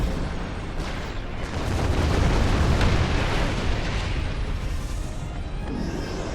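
Missile blowing up in the Star Trek Online space game, a dense, loud roaring explosion rumble that swells and sustains for several seconds with a low booming body.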